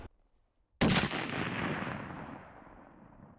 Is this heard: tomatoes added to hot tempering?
no